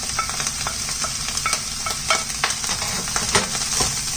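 Vegetables are stir-fried for vegan pineapple fried rice, sizzling continuously in the pan while quick scrapes and clacks of stirring tap out an uneven rhythm close up.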